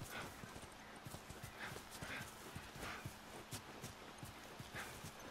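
Horse hooves clip-clop in a steady walking rhythm as a horse is ridden in the video game The Last of Us, faint and continuous with no talking over it.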